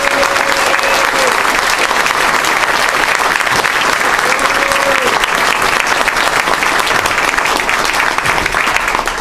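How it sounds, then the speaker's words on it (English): A forum audience gives a big round of applause for Supreme Court candidates, loud, sustained clapping from many hands throughout, with faint tonal sounds briefly rising above it. "Please give them one more big round of applause."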